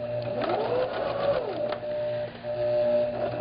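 A sewing machine stitches a vintage wedding dress, giving a steady motorized hum with a rising and falling whine and a few brief stops and restarts, close by and moderately loud.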